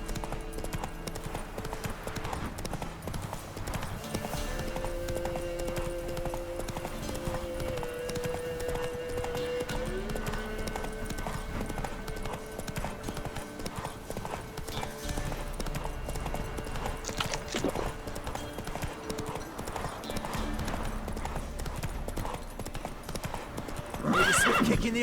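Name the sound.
Geralt's horse Roach galloping, from the video game The Witcher 3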